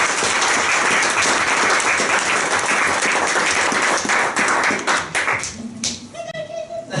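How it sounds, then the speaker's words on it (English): Loud, close applause from a workshop audience rolls on steadily for about five seconds, then thins and fades as brief voices and a short tone come through. "I think we can give him another round of applause because this was a fantastic workshop"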